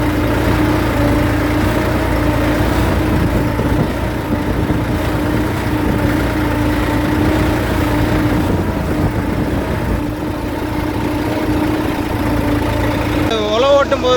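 A New Holland 3630 tractor engine runs steadily in a field with a loud, continuous mid-to-low drone and a slight rise near the end, while someone talks over it throughout.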